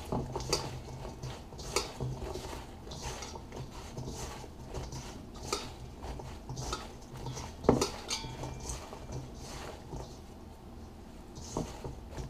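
Apple pie filling mixed with a utensil in a bowl, quiet repeated clinks, scrapes and soft wet stirring in an irregular rhythm, close by, with no talk.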